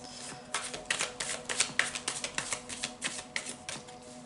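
Oracle cards are shuffled by hand in quick, rhythmic bursts of soft flapping and slapping, close up and fairly quiet, with no voices.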